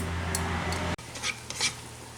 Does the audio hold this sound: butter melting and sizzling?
yes